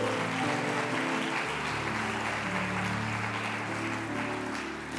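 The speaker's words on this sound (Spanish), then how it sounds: "Denle un aplauso fuerte a Jesús, a su Rey." A church congregation applauds during a sermon, steady clapping blended with sustained music tones from instruments playing underneath.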